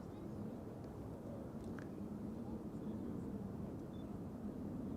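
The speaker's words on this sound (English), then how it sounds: "Transavia flight 5724 arriving from Heraklion in Greece, A321neo." A Transavia Airbus A321neo arriving at Amsterdam Schiphol Airport produces a steady, distant low engine rumble that holds constant throughout, heard outdoors from a plane-spotting position.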